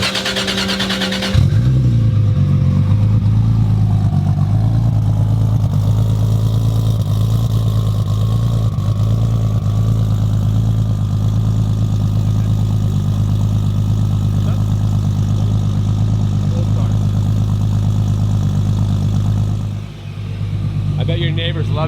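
A 1350 hp Toyota Supra drag car engine starts with a sharp bang and settles into a loud, steady, rumbling idle with a short dip near the end.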